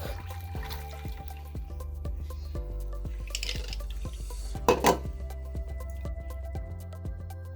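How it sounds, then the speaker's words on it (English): Milk is poured through a sieve while making homemade yogurt, producing close, scattered drips and a soft liquid trickle. A brief splashy burst stands out partway through. "So next, let's sieve our milk."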